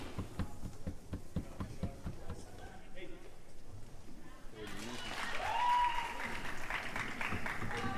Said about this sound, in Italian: Ancora il Fido Lugani riceve l'applauso dei suoi beniamini sugli spalti